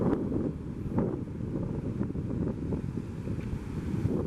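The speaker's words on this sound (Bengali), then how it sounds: "দেখতে পাচ্ছেন অনেক বড় বড় ঢেউ এবং পানিটা মোটামুটি ভালো পানি এখানকার" Large sea waves roll onto the shore at Shah Porir Dwip, a continuous deep roar of surf with strong wind buffeting the microphone, loud and close.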